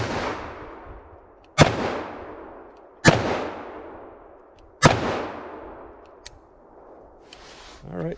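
Smith & Wesson Model 69 Combat Magnum revolver firing Underwood 180 grain XTP rounds outdoors: four sharp, loud shots spaced about one and a half seconds apart, each followed by a long decaying echo.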